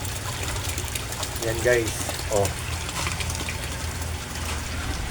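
A small 18-watt aquarium aerator air pump sends a steady, continuous bubbling and gurgling through water, close and constant, while someone speaks over it.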